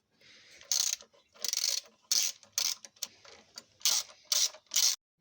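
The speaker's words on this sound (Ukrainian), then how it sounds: "Беремо вороток, головочку на 13 і починаємо." A ratchet wrench with a 13 mm socket loosens bolts on an Opel Zafira's EGR valve, giving short bursts of rapid, close clicking, about eight separate runs separated by brief pauses.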